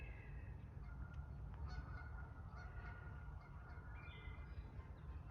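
Geese and ducks honk at a park lake at Stoever's Dam Park, with scattered calls and honks over a steady outdoor rumble, moderately distant.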